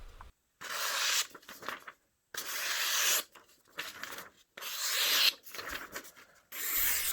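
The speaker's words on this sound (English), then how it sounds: "Let's do a paper cutting test at an angle." A sharpened Japanese hand plane blade slices through paper held at an angle, giving several close dry rasping swipes separated by short silences.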